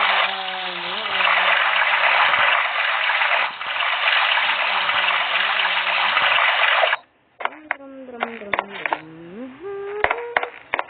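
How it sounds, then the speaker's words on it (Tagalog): Shower water runs in the Roblox Brookhaven roleplay game, a steady hissing gush lasting several seconds before cutting off abruptly, followed by a voice talking alone. "Shower tayo."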